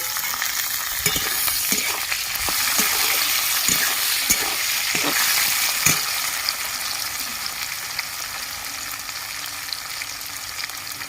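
Chopped tomatoes fry on top of onions in a pan for egg pulao, giving a constant close sizzle with scattered spatula scrapes and taps early on that fade into a steadier hiss.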